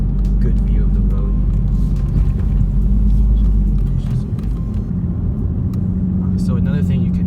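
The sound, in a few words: modified 2011 Infiniti G37xS Coupe driving, loud engine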